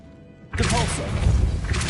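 Depulso force-push spell striking in Hogwarts Legacy, a sudden loud thudding impact that bursts in about halfway through and rings on as a broad, sustained whoosh to the end.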